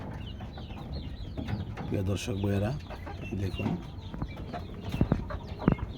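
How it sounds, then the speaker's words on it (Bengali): Desi chickens on a farm cluck and cackle in a short burst of calls close by, with someone speaking over the birds. "মাশাআল্লাহ অনেক সুন্দর সুন্দর মুরগি। আমার বাড়ি ভর্তি প্রচুর মুরগি আছে।"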